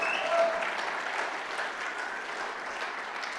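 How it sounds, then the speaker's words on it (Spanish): A church congregation gives a big round of applause for their pastor. The clapping is dense and even, holding at moderate volume for a few seconds with no speech over it. "Denle un fuerte aplauso a nuestro Padre."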